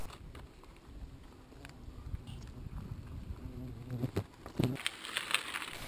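Horseflies buzz around cyclists riding through the Ural Mountains on a hot summer day, a faint, continuous insect drone with soft patters and knocks from the riders, outdoors with no talking.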